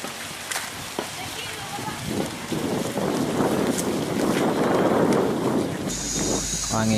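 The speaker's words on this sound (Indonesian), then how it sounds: "Angin cukup kencang di sini karena itu pegunungan ya di sini teman-teman." Strong mountain wind roars and buffets the microphone in steady gusts, building louder toward the middle, while a person talks underneath.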